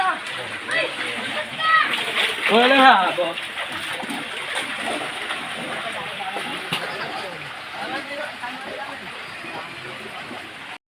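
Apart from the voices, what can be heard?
continuing rain and flood water during typhoon Carina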